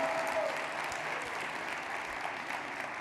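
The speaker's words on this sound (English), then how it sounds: "come up and take a round of applause." Audience applause at the close of the Global Entrepreneurship Congress in Bahrain as staff and volunteers are called to the stage, a steady, dense clapping that holds at an even level throughout without talk.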